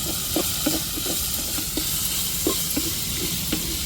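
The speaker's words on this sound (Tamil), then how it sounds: "இஞ்சி பூண்டையும் சேர்த்து வதக்கி விட்டுக்குருவோம் தக்காளியோட" Stone-ground ginger-garlic paste and tomato sauté in a pan for a goat spleen fry, giving a steady close sizzle with repeated sharp scrapes and taps of the stirring spoon and no voices.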